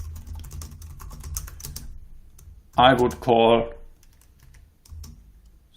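Fast clicking of a computer keyboard runs steadily under the scene, nearby and moderately loud, broken briefly by someone speaking before the typing resumes faintly.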